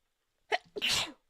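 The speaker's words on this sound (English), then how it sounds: "I'm getting ready to sneeze." A single sneeze, close and sharp, with a brief sharp intake before the explosive burst.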